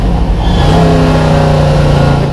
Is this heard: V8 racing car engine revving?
yes